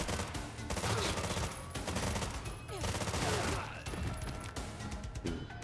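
A video game firefight plays out as continuous, dense volleys of gunshots layered with clattering impacts, loud and sustained across the whole stretch with no pause.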